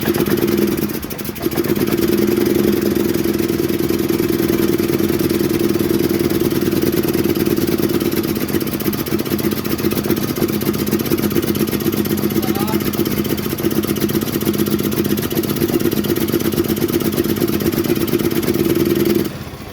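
A Hisun 400 ATV 4x4 engine idles close by with a loud, steady low rumble and fine mechanical clatter that holds evenly for the whole stretch.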